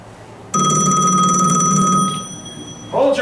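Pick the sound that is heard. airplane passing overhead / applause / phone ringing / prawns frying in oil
phone ringing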